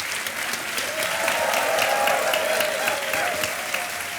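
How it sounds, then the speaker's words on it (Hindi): A quiz show studio audience breaks into sustained applause, a dense, even wash of clapping from a large crowd that holds steady and fairly loud throughout, with a faint voice or tone underneath. "और शोर और ताली बजती रहे"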